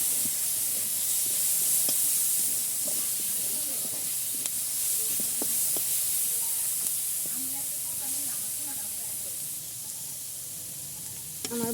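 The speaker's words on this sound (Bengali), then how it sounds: "তেলটা দিয়ে ভালো করে ভাজা করে নেব।" Oil sizzles and hisses steadily in a pan while something fries for a mashed bharta dish, with faint stirring clicks.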